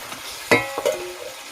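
Eggs and potatoes drop into a sizzling spice paste in a pan, giving one sharp hissing splash followed by a second smaller one, with frying continuing underneath and no talk.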